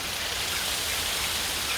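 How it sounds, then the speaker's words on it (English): Hail blown in off the sea in Cornwall pelts a roof as a steady, dense hiss of tiny impacts, close and constant with no voices. "A hailstorm blown straight off the sea."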